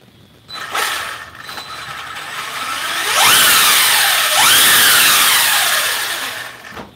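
HK Desert Racer RC car electric motor whirring up and down in rising and falling revs, with gear and ratchet-like mechanical noise, loud and close with no talk.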